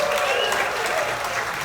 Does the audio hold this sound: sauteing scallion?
no